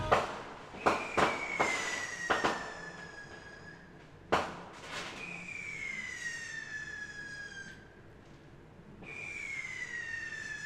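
Fireworks going off outside, several sharp distant bangs and crackles, some followed by long whistling tones that slowly fall in pitch, faint and alone with no talk.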